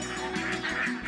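Geese or ducks on an Assam duck farm give repeated nasal honks close by, several calls overlapping in quick succession.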